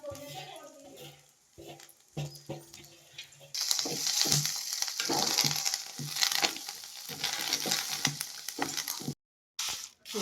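Dried red chillies, cumin and coriander seeds frying in hot oil, a steady close sizzle that swells sharply partway through, with brief stirring clatter and a short gap near the end.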